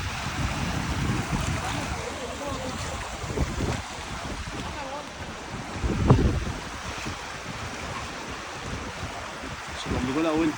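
Floodwater from a DANA cold-drop storm surging through the streets of Benetússer, Valencia: a steady, broad rushing wash with gusting wind buffeting the microphone and a louder surge partway through.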